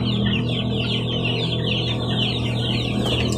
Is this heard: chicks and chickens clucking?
yes